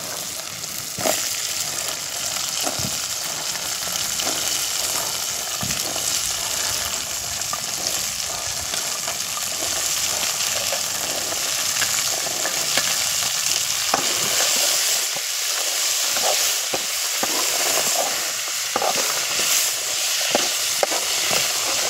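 Turkey berries (sundaikai) fry in a pan for thokku, a loud, close, continuous sizzle and crackle lasting over twenty seconds, broken by scraping stirring strokes, with no voices.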